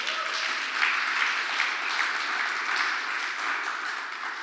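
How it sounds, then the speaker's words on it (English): Audience applause after a talk, a continuous wash of many hands clapping at an even level, moderately loud with no speech over it. "Can we have a round of applause for that?"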